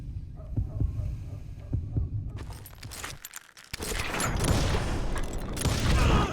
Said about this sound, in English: You hear the heartbeat, you can draw your gun first